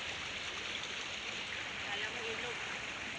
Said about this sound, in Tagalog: yung agos na mabilis pagpasok sa Malabon